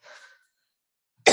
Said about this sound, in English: I just coughed like a pariah